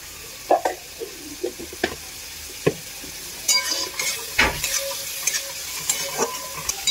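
Spiced masala paste frying in a pan for a Bengali patal chingri (pointed gourd and prawn) dish, with scraping stir strokes and clinks of a spatula over a steady soft sizzle, close and moderately loud.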